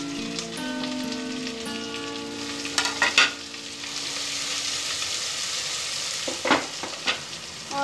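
Diced potato and carrot frying in a pan with browned onions for a home lunch, a steady loud sizzle with a few clattering stirs and scrapes, with no talking.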